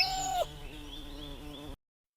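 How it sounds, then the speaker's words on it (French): A bird sings outdoors in a short clear phrase: a high sustained whistled note, then lower warbling tones trailing off, close and fairly loud with no talking. "Un oiseau passe très haut et chante joyeusement."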